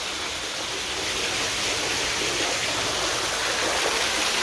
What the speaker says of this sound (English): And then we've got Morgan's fountain.